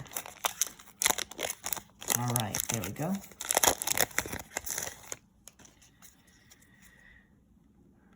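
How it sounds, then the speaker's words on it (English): Crisp snipping and crinkling of a trading card pack's plastic wrapper being cut with scissors close by, with a voice talking over the cutting before it falls quiet. "This one is giving me some trouble, so I'm gonna just use some scissors."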